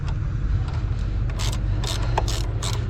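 Ratchet wrench loosening a fitting on a car engine, quick bursts of sharp close clicking over a steady low hum from a running engine.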